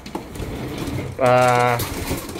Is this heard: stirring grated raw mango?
no